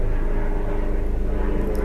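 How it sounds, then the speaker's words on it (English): Overhead aircraft, planes and helicopters passing above, give a loud continuous low engine drone with a faint pulsing throb, steady throughout and heard without talk. "There goes planes, choppers over ahead as I'm doing October."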